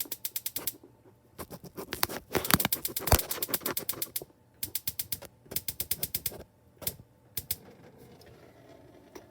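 A portable heater's igniter starter clicks repeatedly to light the pilot, bursts of rapid sharp ticks with short pauses between them, close and clear in a quiet room.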